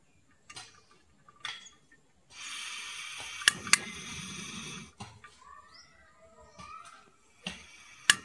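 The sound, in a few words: gas stove burner being lit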